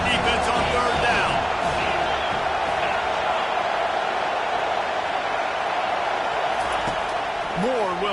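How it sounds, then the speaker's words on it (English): A football stadium crowd on third down swells into a loud, continuous roar that fills the whole stretch, with a commentator talking over it. "Decibels rising as the crowd gets behind this defense on third down."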